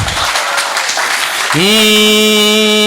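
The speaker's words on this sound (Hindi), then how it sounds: "भाई साहब के लिए ताली बजाओ" Audience applause at a Hindi comic poetry (hasya kavita) gathering, a dense, steady clatter of many hands for about a second and a half, then cut off by a sustained, bright harmonic musical tone.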